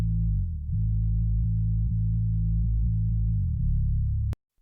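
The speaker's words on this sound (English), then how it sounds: "So I've got this bass low, which just sounds like this." Bass guitar played back through a low-end sub channel, a deep sustained rumble with subtle note changes, steady and loud, cutting off abruptly near the end.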